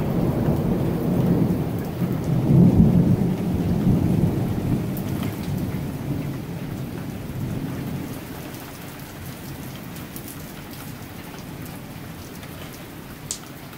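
Severe thunderstorm with intense lightning and damaging winds: a heavy rumble of thunder swells and fades over steady loud rain pouring on surfaces, with occasional sharp drips and no talking.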